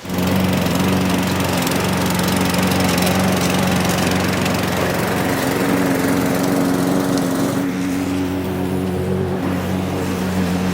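A petrol lawn mower fitted with a sweeper brush runs continuously at close range cleaning paving stones, its steady engine drone mixed with a whirring brush sweeping.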